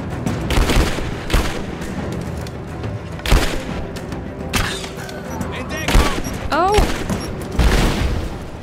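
Bursts of gunfire and booming blasts from the video game Rise of the Tomb Raider, loud and close, with rapid volleys of shots and a few heavy thuds between them.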